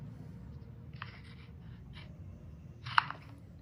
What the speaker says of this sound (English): then trim along the midline of the tape